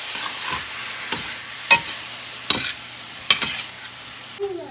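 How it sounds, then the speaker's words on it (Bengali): Papaya pieces being stirred and fried in ghee: a low, steady sizzle broken by about five evenly spaced scraping strokes of a spoon roughly every second. "এবার এটা ঘিতে ভালো করে ভাজা করে নেব।"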